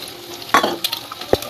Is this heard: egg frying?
yes